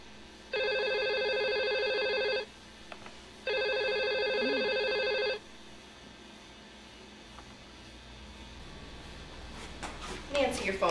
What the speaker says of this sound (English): Your phone just rang.